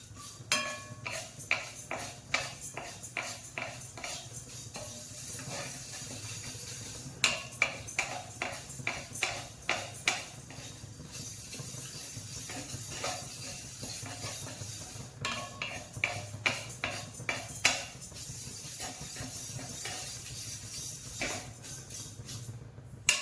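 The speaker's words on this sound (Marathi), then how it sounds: "पोहे पण हलकेच भाजायचे." Poha lightly dry-roasting in a pan, a spoon scraping and clinking against the metal in steady irregular strokes, with a low background hum and no talk.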